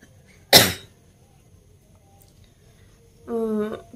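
A person with a mild cough gives one sharp, close cough indoors, followed after a quiet pause by a brief voiced, throaty sound.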